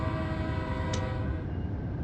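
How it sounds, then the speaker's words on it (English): An Amtrak Acela Express sounds its horn in the Train Sim World 4 video game, a steady, loud multi-tone blast held over the rumbling run of the train. "I gave him a good honk of the horn"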